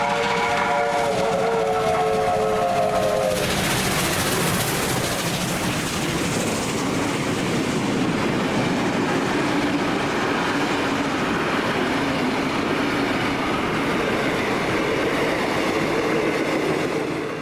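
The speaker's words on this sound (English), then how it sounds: "we see the train again, at a location named after the bank that it just climbed" Steamrail Victoria steam train hauled by R711 and K183 near Ingliston after climbing the bank toward Ballarat; a loud, steady rumble of the passing train, with a brief whistle-like tone at the start and continuous rolling noise throughout.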